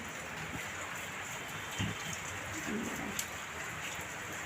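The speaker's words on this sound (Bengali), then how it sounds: "দেখো এই দেখো বন্ধুরা, ঝিমঝিম বৃষ্টি বোঝা যাচ্ছে।" Light, steady rain falling during a storm with dark clouds and gusty wind, a soft continuous patter heard alone at a constant low level.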